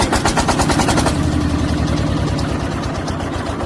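A root crop harvester's engine, used for sweet potatoes, cranks with a rapid rhythmic chatter, then catches and settles into a steady, loud, close idle with a regular low pulse.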